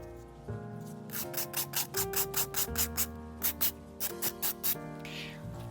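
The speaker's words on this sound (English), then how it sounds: "So I'm just scoring or filing the older file along all 4 edges of the new file." An old nail file scraped along all four edges of a new 100/180 grit nail file, giving a quick series of short, even rasping strokes up close, about fifteen in a row with brief pauses.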